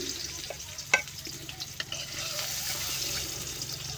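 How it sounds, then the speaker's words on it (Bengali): Eggs fry lightly in a pan with a soft, continuous sizzle, broken by a few scraping clinks of a utensil stirring. "এই তো আমি এখন ডিমগুলো ভেজে নেবো, আর খুব বেশি কড়া করে ভাজবো না, একটু হালকা হাতে ভেজে নেব।"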